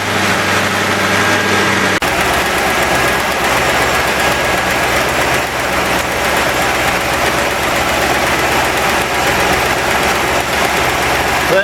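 A junkyard V8 engine idles steadily with a slight miss and lifter noise, its carburetor still needing adjustment; loud, continuous and close throughout.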